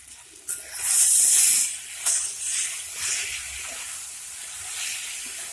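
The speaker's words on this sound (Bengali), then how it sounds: "ঘি দিবে মা আর হলো এদিকে গরম মশলাটা দিবে" Ghee and garam masala sizzle in a hot pan with a sharp, bright hiss that swells loudly in the first seconds, then settles into a steady, softer frying crackle, with no voices.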